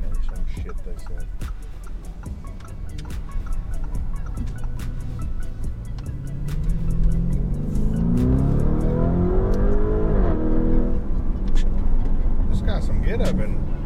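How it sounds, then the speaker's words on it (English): Lamborghini Urus in sport mode: the engine revs climb from a low rumble to a loud, rising roar in the second half, with turbo pops and people talking over it. "put it in sport mode. I do like hear those turbos popping off."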